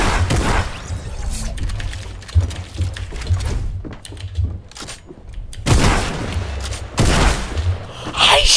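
Rapid video game gunfire with booms and mechanical clatter, dense and continuous through most of the stretch with brief lulls, loud and close, while a voice talks over the shooting.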